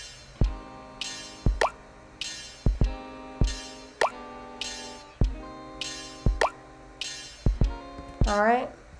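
A GarageBand drum-machine snare sample hits in a steady repeated pattern, each sharp crack followed by a brief tonal ring, ending with a quick pitched sweep.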